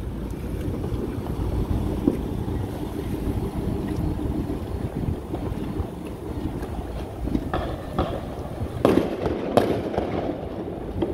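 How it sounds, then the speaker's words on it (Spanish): Fireworks bursting outdoors on the night of July 5, 2020, sounding as a continuous crackle and rumble under steady wind noise, with a few louder pops and bangs near the end and no talking. "Está tirando juegos artificiales en estos momentos."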